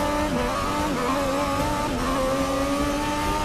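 A Formula 1 style car in the Forza 6 racing game drones with a continuous, strained engine note, its pitch wavering slightly as the revs shift, loud and steady with no break.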